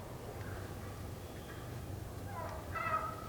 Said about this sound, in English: We set up on these 2 birds that were gobbling.